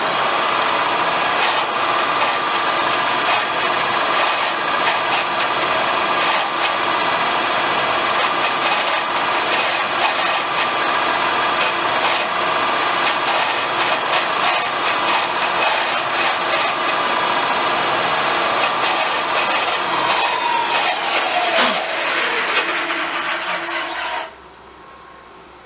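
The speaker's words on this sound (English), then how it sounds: "let's just flatten the end of this so we can put a drill in" A machine tool faces the snapped end of a broken stud flat, a steady loud grinding and cutting whine that runs unbroken for over twenty seconds and then cuts off abruptly near the end.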